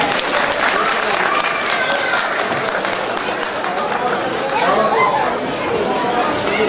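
Wedding guests applaud at a Turkish civil marriage ceremony, a steady, dense wash of clapping lasting several seconds with crowd chatter mixed underneath.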